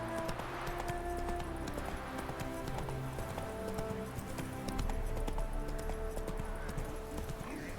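Horse hooves clip-clopping at a steady gallop in The Witcher 3, a continuous rhythmic pounding over game ambience and music, with a brief whinny and occasional voice underneath.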